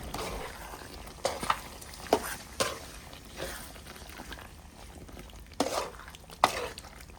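Chicken liver and gizzard masala stirred in a pan: several scraping, splashy strokes of a spoon through thick frying gravy at irregular intervals over a soft sizzle, close and fairly quiet.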